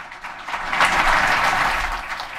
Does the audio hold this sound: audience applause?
yes